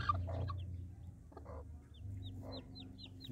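A hen clucks softly in low murmurs while newly hatched chicks sheltering beneath her in cold weather give a string of thin, high peeps, all quiet and close.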